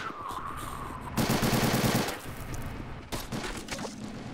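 Video game gunfire as Marines shoot during a brutal amphibious castle assault, with rapid automatic bursts at moderate distance, one louder dense volley in the middle and scattered sharper shots after.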